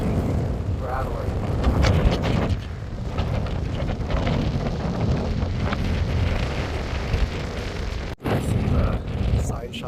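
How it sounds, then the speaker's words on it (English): Strong gusting wind buffets the microphone near a small metal Kansas state-line sign on a roadside stop, a constant loud roar with rattling and shaking throughout. "So windy, our sign is shaking, rattling."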